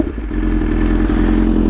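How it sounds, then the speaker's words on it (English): A motorcycle fitted with an Akrapovic exhaust runs close by with a steady, loud engine note and a rough low rumble, holding fairly even over a couple of seconds. "Turning the bike on."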